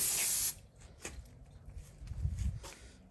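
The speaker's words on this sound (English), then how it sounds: "Spray it down real quick" One brief, bright spray-bottle hiss onto a Weber kettle grill at the start, then quiet clatter and soft movement sounds.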